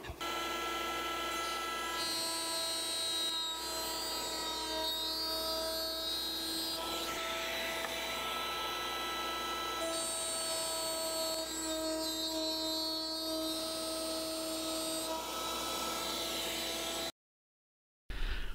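A power tool cuts dadoes across wood pieces run along a fence, giving a sustained high, tonal whine that shifts pitch slightly as each piece passes through, continuous and fairly close, with no talk.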